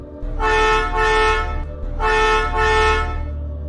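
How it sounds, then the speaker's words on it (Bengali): Truck horn honking from behind on a road, two long blaring toots of a couple of seconds each, loud and close, with no voices over them. "ঠিক তখনই একটি ট্রাক ওদের ট্রাকের পেছনে এসে হর্ন বাজাতে থাকে।"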